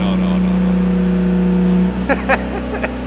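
Loud Tomei exhaust on a Subaru WRX with Stage 2+ tune droning at idle up close, a deep steady rumble, followed by brief voices talking over the engine.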